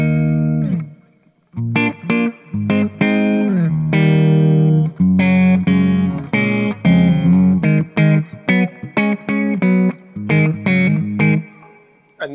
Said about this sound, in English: you'll hear it's more of a plate type